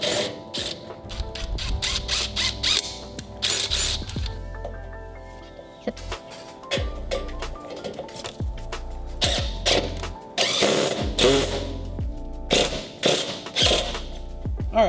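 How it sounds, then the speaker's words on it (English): A drill pre-drills pilot holes in a garden trellis and metal cans for vertical planters, running in repeated short whirring bursts with ratcheting clicks and clatter in between, close and fairly loud. "definitely helps to pre-drill some pilot holes in both the trellis and in your"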